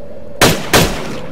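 Two loud, close M4 rifle shots from a survival horror video game, fired about a third of a second apart, each with a sharp crack and a short reverberant tail.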